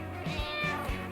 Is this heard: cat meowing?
yes